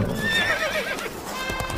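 A horse gives a short wavering neigh while hooves clip-clop, the whinny rising and trailing off over quick close footfalls, brief and fairly loud.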